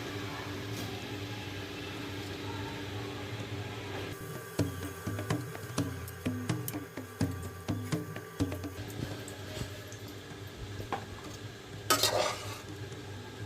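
Soaked rice being stirred in a pot of stock for jollof rice, a steady run of rhythmic scraping and sloshing strokes in the middle, close and moderately loud over a constant kitchen hum, ending with a brief clatter.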